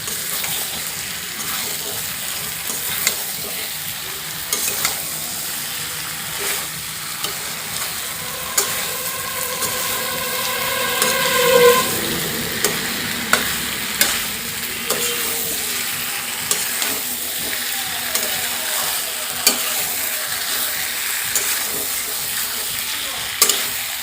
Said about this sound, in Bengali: আলু মাংসের সঙ্গে ভালো করে কষিয়ে নেব।